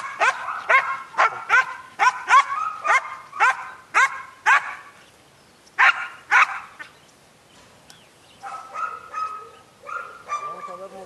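A guard dog barks in a rapid series of sharp, close barks during bite training, pauses, then gives a few more barks and whimpering yelps.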